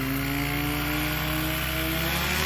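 Small light airplane running a 912 engine and carrying multiple modifications, throttling up for a very short takeoff roll; a steady, loud engine drone with rising harmonic tones as power builds, continuous with no voices.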